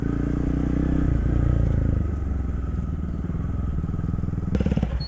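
Motorcycles riding off-road rumble loudly and close by in a steady, throbbing engine drone, with a brief rattling clatter near the end.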